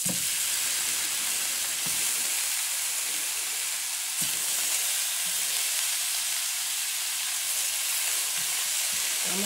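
Homemade ham frying in a hot pan: a continuous, close sizzle and hiss with soft rhythmic bubbling pulses, heard alone without talk.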